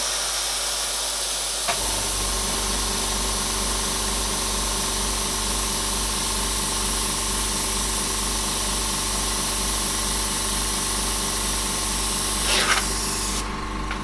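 An airbrush sprays paint through a star stencil for chrome lettering, giving a loud, continuous hiss with a faint pulsing compressor hum underneath that holds steadily after a brief start.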